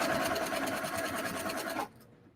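A sewing machine stitches a quarter-inch seam on quilt pieces in one steady, close run before stopping suddenly near the end.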